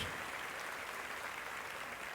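A church congregation at a Catholic service gives a steady, even round of clapping. The clapping is dense and fairly faint and fills the whole moment.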